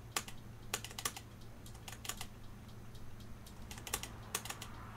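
Typing on a computer keyboard while drafting a 3D part in DesignSpark Mechanical: quick irregular bursts of light key taps, close and fairly quiet, with no talking.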